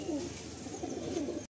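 A female Madrasi or Andhra pigeon coos in a continuous low, warbling rumble, close and fairly clear, ending abruptly.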